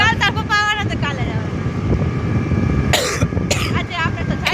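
Two short, harsh coughs burst out close to the mic in the middle of the clip, set amid ongoing conversational voices and steady wind-like background noise.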